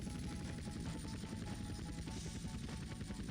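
A helicopter flies over Las Venturas in GTA San Andreas, its rotor chopping in a steady, close, continuous pulse with no talk over it.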